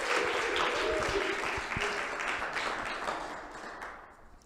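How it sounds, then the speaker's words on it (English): Audience applause at a faith-themed vocal music event: dense, steady clapping from a crowd that fills the whole stretch and slowly tapers off toward the end. "Let's give him an applause,"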